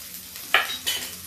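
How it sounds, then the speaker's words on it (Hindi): Onions frying in a pan for kadhi pakora, with two short bursts of sizzle and stirring against a quiet background. "अब इसमें थोड़ा सा हम प्याज डालते हैं"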